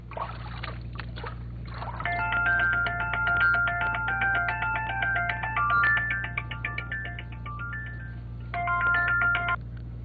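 A telephone ringing with a melodic electronic ringtone, a repeating pattern of bright tones that plays for several seconds, pauses briefly, then resumes over a steady low hum.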